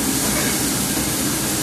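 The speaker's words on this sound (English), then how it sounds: "Okay, go ahead and mix these," Red peppers, garlic and onions sizzling in a hot pan while being stir fried for chicken fried rice, a steady loud hiss with no break.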